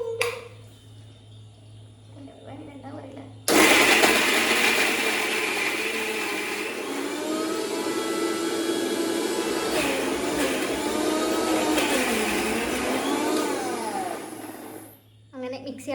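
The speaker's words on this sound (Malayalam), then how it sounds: "നമ്മൾക്ക് പിന്നെ മിക്സ് ഇട്ടാലോ എന്തൊക്കെ സൗണ്ട് ഉണ്ടാക്കിയാലോ പ്രശ്നമില്ല." After a quiet start, a home kitchen mixer grinder switches on and runs with a loud, steady whirring roar that holds for over ten seconds before cutting off, while people talk over it.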